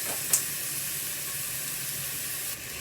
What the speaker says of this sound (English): and then I will let it boil